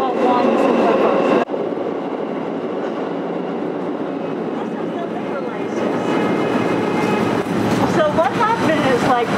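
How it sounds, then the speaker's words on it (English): A New York City subway train passing on a Greenwich Village street, a loud rumbling roar with rail clatter and squealing wheel tones that swell toward the end, with people talking underneath. "The train."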